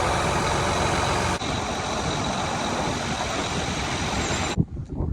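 A big grain auger filling a 1,000 bushel truck, a loud continuous mechanical roar with rushing grain that holds steady and then cuts off abruptly near the end.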